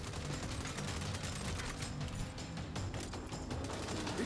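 Rapid bursts of gunfire from the video game Saints Row, dense and continuous with overlapping shots throughout, loud and steady with no talk over it.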